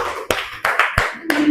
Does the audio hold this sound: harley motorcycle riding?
no